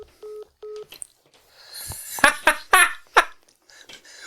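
A phone that was not on silent lets out two short, identical keypad tones, followed by a burst of nearby laughter from several people.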